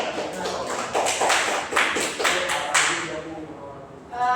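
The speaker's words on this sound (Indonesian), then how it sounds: "beri aplaus untuk Meli" Classroom applause for a student, a short burst of claps from a group of pupils lasting a few seconds, fairly close and dense, then tapering off while a voice begins to speak.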